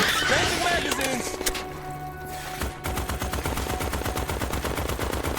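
Rapid bursts of gunfire from the video game Starship Troopers Extermination during a base attack by arachnids, a loud, steady string of repeated shots that continues through most of the moment, with a brief lull partway.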